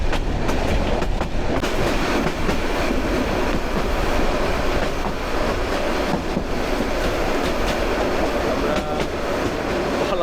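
The Kishoreganj Express intercity train rolls along its tracks through palm groves, a steady close rumble of wheels and carriage rattle with faint clicks, continuous for the whole stretch.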